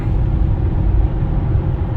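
Maserati GranTurismo with a Ferrari-developed engine gives a deep, even rumble that holds steady for two seconds, close and fairly loud with no talk.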